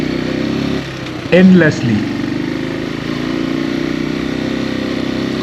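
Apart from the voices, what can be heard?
motorcycle engine climbing a steep road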